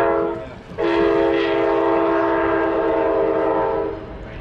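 Amtrak southbound train 90278 on the San Joaquin Valley Railroad in Hanford sounds a long, loud multi-tone horn blast close by, held for several seconds before fading as the train passes.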